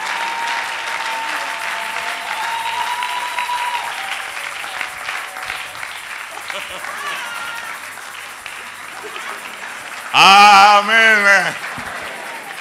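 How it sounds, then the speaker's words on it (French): Church congregation applauding during a French-language sermon on marriage, a broad wash of clapping with murmured voices, swelling at the end with a loud amplified shout over it. "Est-ce que quelqu'un peut applaudir pour sa valeur?"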